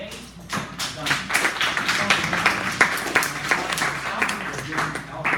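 Students applaud at the end of a university geography lecture, a steady patter of many hands clapping that runs throughout at moderate loudness in a room.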